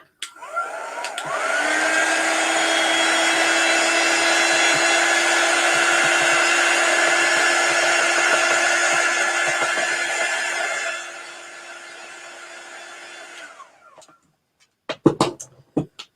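A hair dryer blows steadily for about ten seconds, loud and close with a constant whine, then drops to a lower setting before switching off, followed by a few handling clunks.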